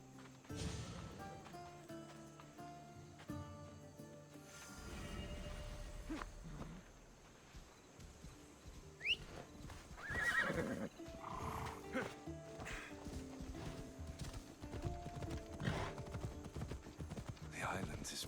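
Horse hooves clip-clop steadily while riding in Assassin's Creed Odyssey, with occasional whinnies and game characters talking over the rhythmic galloping.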